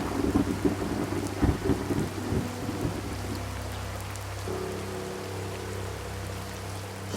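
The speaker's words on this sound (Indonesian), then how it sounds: "ketika itu juga hujan petir menyambar" A heavy thunderstorm pours steady rain while thunder rumbles low and deep, loudest in the first few seconds and then fading into a constant downpour, with no one speaking.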